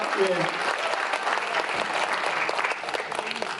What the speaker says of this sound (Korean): 박수 한번 예. 보내주시죠.